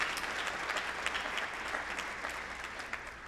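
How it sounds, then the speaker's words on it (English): Audience applause at a high school spring band concert, a dense steady patter of many hands clapping, fairly distant and even for a few seconds. "Give yourselves a round of applause."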